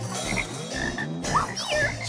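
Frogs croak loudly and steadily close by in a dense, overlapping chorus of throaty rattling calls in an animated cartoon.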